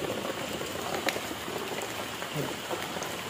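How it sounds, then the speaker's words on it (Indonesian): Heavy rain pours down outdoors near the water, a dense, continuous hiss of drops beating on surfaces, steady and close with only faint scattered sounds beneath it and no clear talking. "ini hujan semakin deras"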